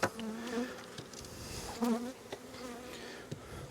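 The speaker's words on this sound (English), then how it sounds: "Put those bees in there." Several honeybees buzz close by in a brood box, their drone rising and falling in short swells and nearby passes, with no talking.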